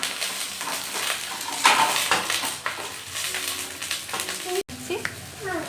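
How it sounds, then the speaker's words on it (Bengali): Vegetables and green chillies fry in a hot pan while a winter-vegetable moong dal is prepared, a steady close sizzle broken by clinks and scrapes of a spatula, with a brief sharp cut near the end. "এই সমস্ত কিছু দিয়ে আমি সবজিগুলোকে ভেজে নেব"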